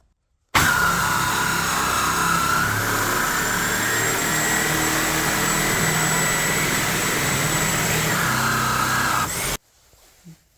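A reciprocating saw fitted with a Dewalt metal-cutting blade saws through metal, giving a loud, steady, close buzzing whine that runs unbroken for about nine seconds and then cuts off abruptly.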